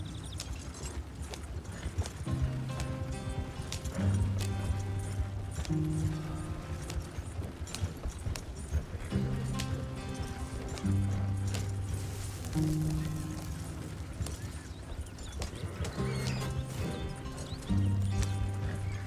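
A horse gallops in Red Dead Redemption 2, with steady rhythmic hoofbeats under continuous game music and ambience, close and moderately loud throughout.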